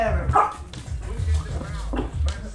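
Four month old puppy barking and growling, excited yips and low growls mixed under overlapping human talk and handling noise, close to the microphone.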